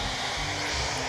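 A dense, steady hiss of broadband static fills the moment, constant and even without pauses or voices.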